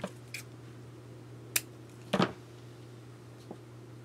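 A tiny piece of material is snipped shorter with scissors, giving a couple of quick, close cuts over a steady low background hum.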